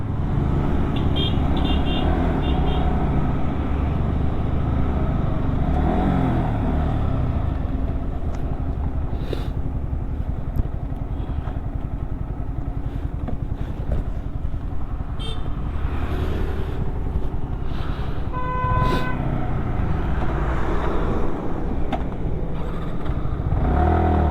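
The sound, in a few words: trucks and traffic passing on highway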